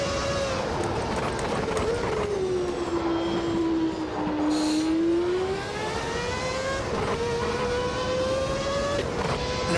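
A race car in Automobilista 2, from the Brazilian Racing Legends pack, drives with a loud, continuous engine note that rises and falls through the gears as it pulls out of a chicane in second gear, with no letup.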